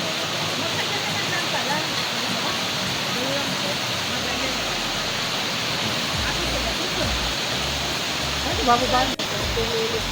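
Digisit Falls in Baler: an unbroken, dense roar of falling water, loud and near, holding steady throughout, with low rumbles and a brief sharp knock near the end.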